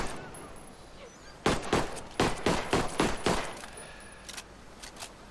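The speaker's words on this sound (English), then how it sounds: "We'll do one sighting round and then as many rounds as we can on full auto" An M1911 pistol in the video game Ghost Recon Breakpoint fires a quick string of about seven sharp, loud shots on full auto, followed by a few fainter clicks and taps.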